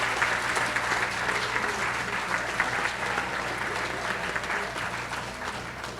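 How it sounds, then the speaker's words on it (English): Sustained, loud audience applause at an annual celebration gala, a dense steady wash of many hands clapping in a large room with faint crowd murmur and a low hum beneath. "Now you can applaud."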